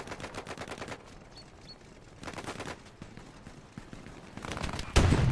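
Machine gun fire crackles in bursts during a WWII-style video game match on a road near a tank, rapid rattling volleys separated by quieter gaps, with a heavier burst at the end.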